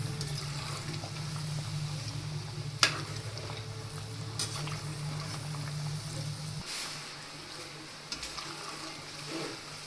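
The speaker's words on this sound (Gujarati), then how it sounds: "બંને સાઈડથી ક્રિસ્પી થાય ત્યાં સુધી આપણે તેને તળી લેશું." Green pea dough snacks frying in hot oil for a Gujarati recipe, a steady close sizzle and bubbling with a few sharp clinks of a utensil, the low hum dropping away partway through.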